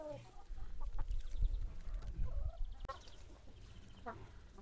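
Dominant breed hens cluck and murmur softly on a small backyard poultry farm, with scattered short calls and low, faint chatter from several birds.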